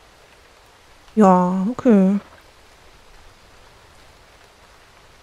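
Soft, even rain hiss from the This Land Is My Land video game runs throughout, with someone briefly speaking over it.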